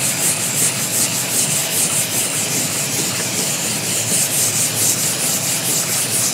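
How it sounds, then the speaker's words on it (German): Steady hand sanding of black paint on an Oettinger TCR Street Kit scrapes continuously in quick back-and-forth strokes, a close, even rasp with no voices. "Das schleifen jetzt so lange, bis das Schwarze da weg ist."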